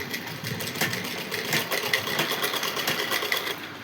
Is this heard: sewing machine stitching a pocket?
yes